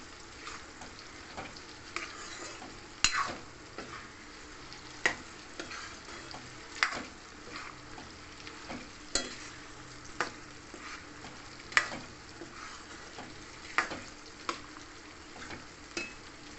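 Ingredients for a jaggery mango pickle stirred and fried in a pan until translucent, with a soft continuous sizzle broken by regular sharp ticks of the spoon against the pan, close and without talk.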